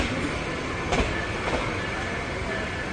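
A train, the Kurigram Express, rumbles steadily nearby at Kaunia railway junction with a continuous rolling roar and faint clattering of wheels on the rails.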